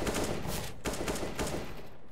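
Gunfire in a shooter game, several sharp bursts of shots spaced across two seconds, steady and fairly loud against continuous game noise.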